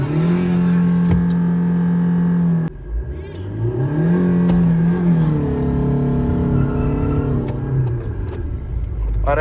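A car revs hard in manual mode at a drag race, close and loud, its engine note climbing, dropping at a gear change, then rising again through the gears.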